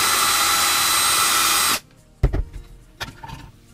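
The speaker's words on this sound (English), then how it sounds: "I can actually use the drill and lighten the hole" A close, steady power-drill whine widening a hole runs for nearly two seconds and cuts off, followed by a few sharp knocks and handling clatter.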